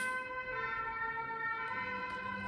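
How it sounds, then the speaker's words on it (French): Ambulance sirens wail outside at a moderate distance, a steady tonal howl holding across the whole stretch over faint road background. "Et je suis désolée pour les ambulances."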